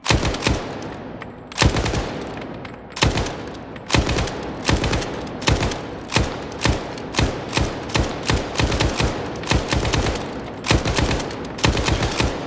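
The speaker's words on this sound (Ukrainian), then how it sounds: "Давайте спочатку постріляю одиночними, подивлюсь, як воно взагалі буде стрілятися, наскільки це буде точно." Gunfire in S.T.A.L.K.E.R. 2: loud sharp shots crack out one after another in a steady rhythm, roughly one per second, with brief bursts near the start, alone without talk.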